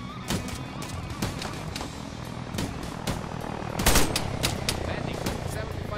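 Gunfire in the military video game Arma 3 cracks out in scattered single shots and short rapid bursts, with a louder, denser volley midway, over a constant background rumble.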